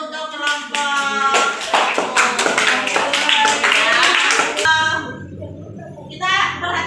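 A classroom group claps together, a burst of hand claps ringing out over a few seconds before tapering, with voices talking over and after it.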